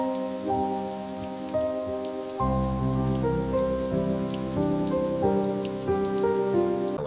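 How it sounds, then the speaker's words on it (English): Rain falls steadily in a Swiss mountain village, pattering densely on surfaces as a continuous close wash, with a low sustained tone underneath and no voices. "Rain-laden clouds sweep over the peaks, and the mist drifts through the valley."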